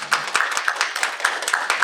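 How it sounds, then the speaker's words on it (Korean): A church congregation at a Korean Sunday worship service in Las Vegas claps in welcome: a light, uneven patter of separate hand claps, steady and fairly close, with no voices over it. "우리 박수로 환영하겠습니다"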